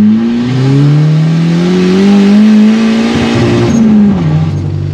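A BMW E36 with a turbocharged K24 engine accelerates hard, its loud engine note rising steadily in pitch across several seconds before easing off near the end, heard close and alone.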